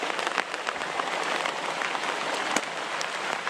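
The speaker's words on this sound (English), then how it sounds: "And ice, you can hear it." Ice pellets falling onto a tarp at a winter campsite in the Catskills, a dense, steady pattering hiss with scattered sharper ticks, close and continuous throughout.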